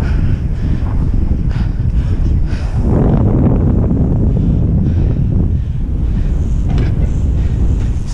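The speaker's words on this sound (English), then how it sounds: "Very windy as well." Strong wind buffets the microphone throughout, a loud, constant low roar with gusty swells and no clear talking.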